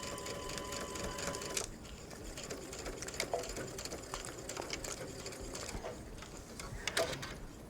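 A sewing machine stitching a welt pocket whirs in a fast close burst at first, then falls to quieter intermittent clicks and handling noises, with faint bird cooing in the background.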